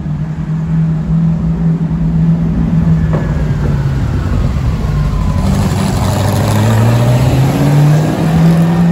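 A 350 hp GT40 replica's engine drones loudly and steadily, its pitch rising and falling as the throttle is worked while the car drives.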